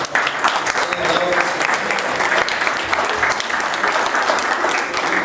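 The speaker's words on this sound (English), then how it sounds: "can you give a round of applause to the committee, first of all, for putting on tonight" Guests at the HCA NW & WY annual dinner give the event committee a round of applause: a sustained, full roar of many hands clapping at once, steady and loud throughout, with some voices mixed into the crowd.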